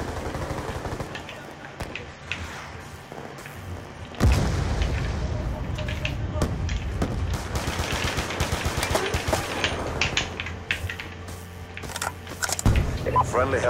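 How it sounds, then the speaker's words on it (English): Hellstorm missile strikes in a first-person shooter video game land as heavy booms amid rapid machine-gun fire and a dense battle din, with players talking over the noise. "Friendly Hellstorm missile inbound."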